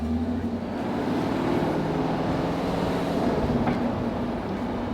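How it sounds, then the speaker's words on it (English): A 2021 Chevrolet Camaro SS V8 engine cruising with Rev Match on, giving a steady, smooth low drone with road noise and no sharp revs. "You hear wonderful engine noises."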